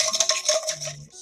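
Dry martini of gin, vermouth and orange bitters being stirred in a mixing glass, with a run of light, quick metallic clinks and ice rattles up close, then a softer ringing tail.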